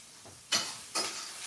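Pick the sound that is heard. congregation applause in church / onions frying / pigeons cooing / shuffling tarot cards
onions frying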